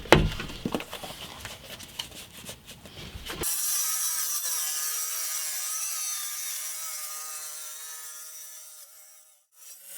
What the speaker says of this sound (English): Now I'm just going to use the circular saw, run up against the side of this guide to make the 3-inch fence or 75 millimeter fence